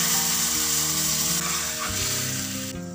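Hilsa fish poured into a hot wok of oil with nigella seeds and chilli, giving a loud, steady sizzle and frying hiss that runs throughout with a brief stirring clatter.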